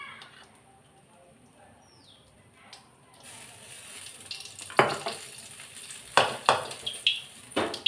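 Oil poured into a hot kadai while cooking cauliflower kulambu and fry begins to crackle and sizzle, starting quietly and building into sharp, irregular spattering pops toward the end.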